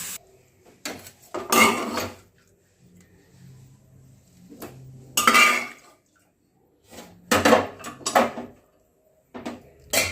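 Boiled chalta fruit tipped out of a pressure cooker into a bowl, heard as several bursts of clattering metal and wet thuds separated by quiet gaps, close and fairly loud.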